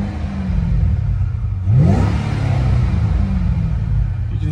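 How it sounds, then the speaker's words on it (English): A supercharged V8 in a 2008 Ford Mustang Shelby GT500 with a six-speed manual fires up and settles into a loud, deep, rumbling idle, heard close through the open door, with one quick rev near the two-second mark. "Fires right up. With the door open, you can hear the exhaust."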